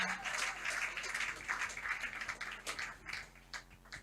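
A church congregation claps and applauds steadily for several seconds, a dense continuous patter of many hands at moderate loudness with little speech.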